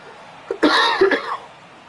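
Harsh coughing from a man streaming a baseball video game, a short burst of two or three close, loud coughs with throat clearing, alone without talk.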